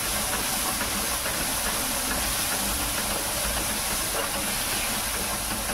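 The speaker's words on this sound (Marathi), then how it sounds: "एक मिनिट त्याला असं परतायला ठेवू, परतून घेऊ।" Usal masala paste sautéing in a pan for usal pav, giving a steady, dense sizzle and hiss that runs unbroken and fairly loud throughout, with no voices over it.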